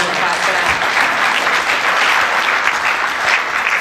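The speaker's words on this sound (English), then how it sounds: "you can give a round of applause for that" Round of applause from a chamber of commerce breakfast audience, dense and steady clapping at close range throughout, with no talking over it.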